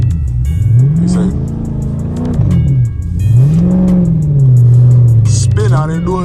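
A Dodge Charger SRT spins out in blizzard snow, its loud engine revving and rising and falling in repeated swells of acceleration close by, with voices talking over it.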